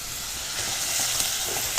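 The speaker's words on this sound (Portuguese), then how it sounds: "Vou colocar o bacon aqui." Bacon sizzles loudly in hot lard in a pan, a dense, steady frying hiss close up with faint stirring and no voices.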